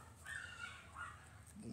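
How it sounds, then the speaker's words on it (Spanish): Dogs bark somewhere in the background during an indoor Blu-ray unboxing, quiet and indistinct, with a few short yips over a low room murmur. "es que están perros ladrando"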